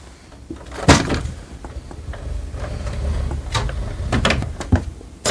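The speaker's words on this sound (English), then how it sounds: "let's close the ink access door." Ink access door of an HP OfficeJet Pro 9135e printer being pushed shut, with a firm plastic thud, then several sliding and rattling mechanism noises and a couple of closing knocks close by, with no talking.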